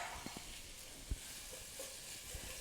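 Tomato paste and chopped vegetables sauté for lentil soup, making a faint, steady sizzle with scattered soft taps and stirs from a utensil against the pot.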